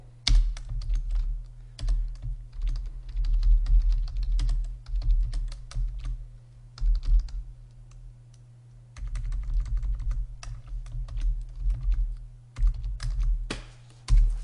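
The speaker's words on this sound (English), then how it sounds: "We're going to type in our label." Steady clicking keystrokes on a computer keyboard as a label is typed into a Google Sheets spreadsheet, coming in close, quick bursts with brief pauses and no voices.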